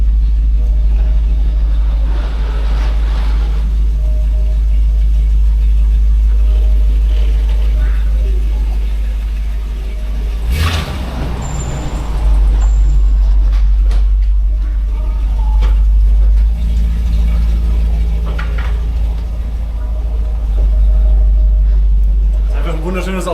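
A Mercedes E50 AMG engine starting and settling into a loud, steady low idle rumble, heard close up while someone talks over it.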